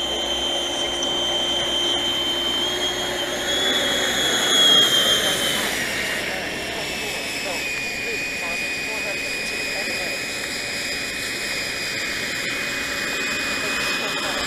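A Viper Jet RC model, an HSD 1400mm electric ducted-fan jet, taxis across grass with a continuous loud whooshing whine that swells briefly and then holds steady. Someone talks over it.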